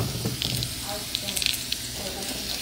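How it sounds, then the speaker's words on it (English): Steady sizzling of food frying in a pan, with soft crackles and pops over a constant hiss. "So it's frying up nicely."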